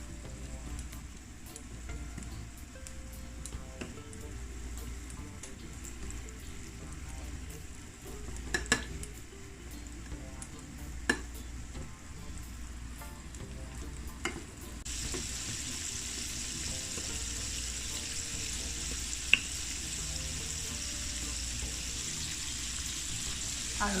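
Flour-dusted jerk chicken wings fry in hot oil with a steady, moderately loud sizzle that swells in intensity partway through, with a few sharp clicks and clatters of pans over the constant bubbling.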